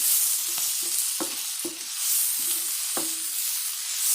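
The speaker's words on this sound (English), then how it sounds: "We're just going to stir this around until the spinach gets a little wilted" Spinach sizzling in a hot pan while being stirred, a steady bright hiss of frying under repeated short scrapes and knocks of the spoon, with no talking.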